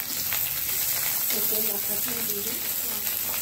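Potatoes fry in hot oil for a fish curry, giving a steady close sizzle, while a voice speaks briefly partway through.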